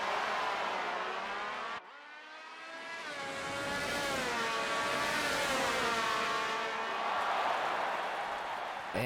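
Racing engines of 1976 Ferrari Formula 1 cars in a game at the German Grand Prix wail loudly with shifting pitch, running steadily through a brief dip in level before climbing again, with some voices faintly underneath.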